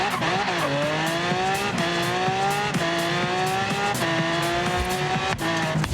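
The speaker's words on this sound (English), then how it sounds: "our tires are spinning up to like 60 miles an hour" Car tires spinning under hard acceleration in Forza Horizon 3, a loud continuous engine roar with rising harmonic sweeps through several gear changes and steady tire squeal, no talk.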